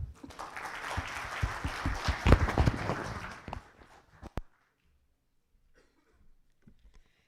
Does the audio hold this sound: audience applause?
yes